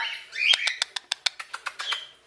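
A pet parrot gives a quick rising chirp and then a rapid series of about ten sharp, evenly spaced tweets, loud and close, with no voices.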